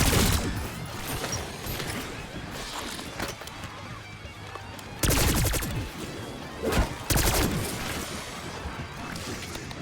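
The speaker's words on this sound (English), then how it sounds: "The power of a pack-a-punch machine gun." A pack-a-punched machine gun in a zombies shooter fires loud, dense bursts of rapid shots. Crashes and impacts mix in, with a couple of heavier blasts midway and some talk under the battle noise.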